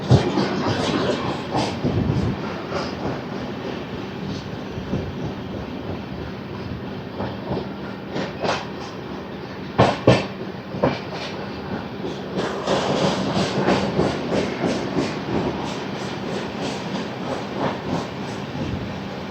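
The Repalle Express, train 17645, runs without stopping through Nallapadu junction station. Loud continuous rumbling and rhythmic wheel clatter carry throughout, with sharp clanks as it crosses points.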